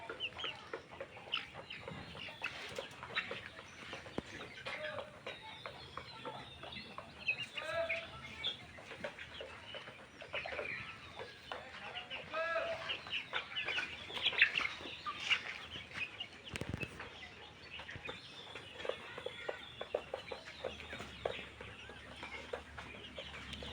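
Forty-eight-day-old layer chickens, weakened after a coryza vaccine, cluck and murmur softly in a poultry shed, with scattered short calls continuing throughout at moderate loudness.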